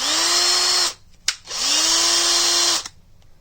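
An old Ryobi cordless drill powered by a converted 24-volt lithium-ion battery whines at steady high speed, stops briefly with a click, then revs up again and runs before cutting off, loud and close with no talk.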